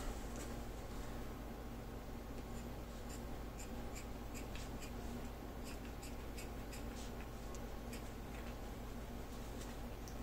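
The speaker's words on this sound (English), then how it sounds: "I'm just snipping strips." Small snips of a cutter trimming thin strips for a rapier hilt, a long run of crisp, irregularly spaced clicks over a steady background hum, close by, without voices.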